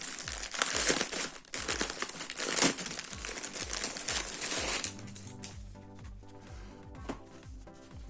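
Thick plastic bags for each player's game pieces crinkle and crumple loudly and close for about five seconds while a Crescent Moon board game is unboxed, then softer handling noises take over.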